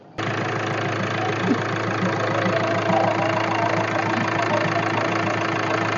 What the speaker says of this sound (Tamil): உங்களுக்கு இன்ஜினும் ஸ்டார்ட் பண்ணி காமிச்சிரு பாருங்களா